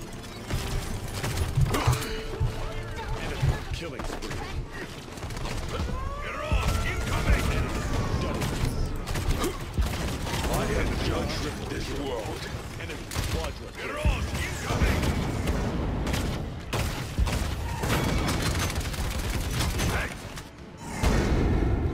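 Rapid gunfire and mechanical weapon sounds from the video game Paladins rattle steadily throughout, with bursts and whooshes mixed under intermittent spoken lines.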